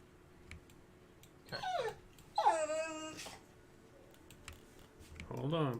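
A dog whimpers and whines in a few short, high-pitched bursts, with quiet keyboard clicks in the background.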